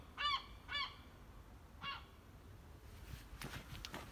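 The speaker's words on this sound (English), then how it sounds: "Even the seagulls are impressed." Seagulls call outdoors, two close, loud honking cries followed by a shorter third call, with fainter distant bird calls and background noise afterward.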